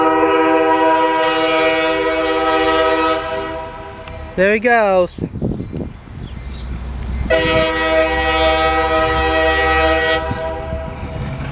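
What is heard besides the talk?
CSX light engine locomotive passing with horn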